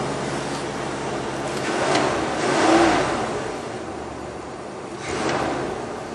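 A car engine revs on a cold start with its carburetor butterfly valve stuck open, a steady mid-pitched engine note swelling in a few broad surges and falling back, close and without talk.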